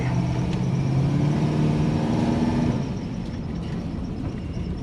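A 1996 Impala SS with a swapped LS 6.0 engine, 4L80e transmission and BTR Stage 3 cam pulls along, its deep steady engine drone rising in pitch then easing off, loud and close without speech.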